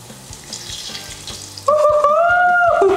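Ice cream goes into hot oil for deep-frying; after a quiet start with faint clatter, a sudden loud sizzle bursts up and keeps bubbling steadily.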